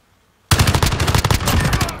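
Rapid automatic gunfire from a first-person shooter game with an SA-87 and X-16 in a 1v1 gunfight, a sudden loud burst after silence that keeps firing in quick, dense rounds to the end.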